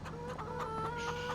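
Chickens clucking in the Farming Simulator 25 video game, a short burst of several repeated close clucks over a steady low background hum.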